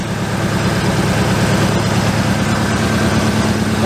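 A subscriber's car engine idles close by, a loud, steady low rumble with an even pulsing throb, running smooth with a slight exhaust leak and no talking over it.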